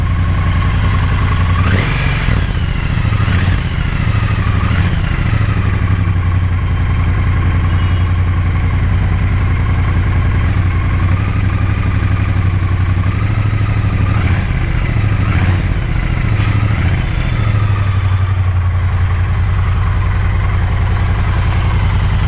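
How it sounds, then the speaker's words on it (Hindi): A 1200cc motorcycle exhaust idles loudly and steadily up close, a deep rumbling thrum with occasional small blips in pitch throughout. "आपको सुनाते हैं इन एग्जॉस्ट की एक बहुत प्यारी सी आवाज़।"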